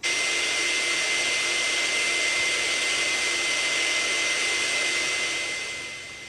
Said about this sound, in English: then it's off to the blow dryer